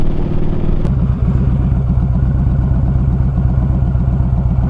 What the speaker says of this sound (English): Probably picking up that rattling from the shield also